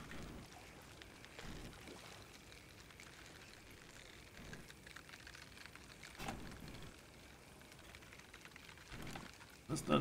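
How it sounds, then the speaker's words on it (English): Rain falling at a lake in the Fishing Sim World video game, a faint continuous patter with a few louder splashes and noises near the end. "playing it with the rain is pretty nice too."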